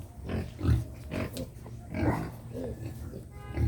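Native Philippine pigs grunt in short, close, rough bursts that recur every second or so at a farm pen.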